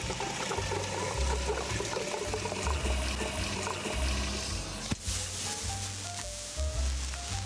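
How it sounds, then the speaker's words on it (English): Liquid nitrogen pours steadily from a container into a styrofoam box, a continuous close hiss and trickle with a faint wash of boiling that holds for the whole stretch, with one brief knock partway through. "I'll transfer the liquid nitrogen into a styrofoam box to pre-chill the cryovials inside"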